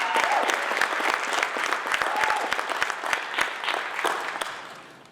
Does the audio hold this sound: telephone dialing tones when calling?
no